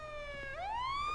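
Police car siren in a video game: a steady wailing tone that dips and then sweeps upward, loud and continuous over a low hum.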